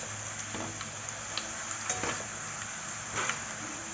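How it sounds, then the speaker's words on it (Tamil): Potato chips frying in hot oil while being stirred for homemade crispy chips, a steady close sizzle with occasional scraping stir strokes running throughout. "லைட்டாக அப்படியே கிளறி விடுங்க. நல்லா எல்லா பக்கமும் பொரிகிற மாதிரி"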